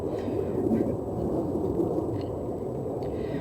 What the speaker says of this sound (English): we're gonna let these fine jets fly over us